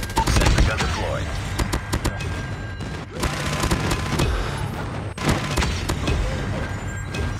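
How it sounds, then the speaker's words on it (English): Rapid explosions and dense gunfire in Call of Duty Mobile, a loud, continuous barrage of booms and cracks from an airstrike on a small map, with game voice callouts mixed in. "Friendly airstrike incoming."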